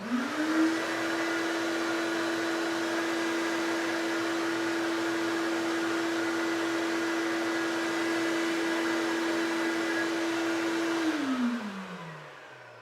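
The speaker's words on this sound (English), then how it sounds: "That is hands down the quietest vacuum out of all of them." A shop vacuum runs at steady full power through a noise test, its motor drone holding an even pitch with broadband rushing air, then spinning down and fading in the final second, with no talk.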